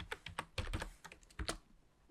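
Quick bursts of computer keyboard typing as a search term is entered, clustered clicky keystrokes with short pauses between groups, close and fairly faint, no talking.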